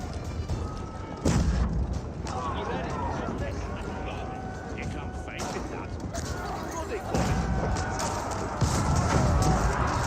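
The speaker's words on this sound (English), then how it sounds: "Great bombard does get a shot there." Battle sounds from Age of Empires 4, with a great bombard cannon firing in heavy booms amid clashing combat noise, and a commentator talking throughout.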